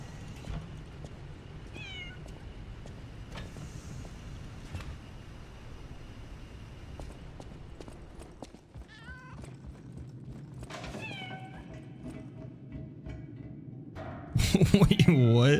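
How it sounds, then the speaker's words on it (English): Several short cat meows sound in the Lies of P video game, spaced out over quiet background ambience, followed by a sudden loud burst of game noise at the end. "Oh, the cat's in there."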